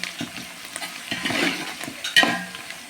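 Onions and spices with dried fenugreek leaves fry for a wedding-style chicken gravy curry, giving a steady sizzle broken by several scraping stirs of a spoon in the pan, close and fairly quiet, with no talking.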